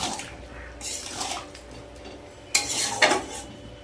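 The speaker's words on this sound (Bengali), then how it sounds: "সব একসাথে দিয়ে ভালো করে নাড়িয়ে নেব" A curry of potato, pointed gourd and cauliflower with ghee is stirred in a pot. A spoon scrapes and clanks against the metal in bursts over a soft sizzle, with the loudest strokes near the end and no voices.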